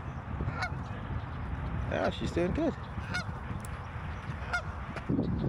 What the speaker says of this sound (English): It's the same geese and family we saw last time.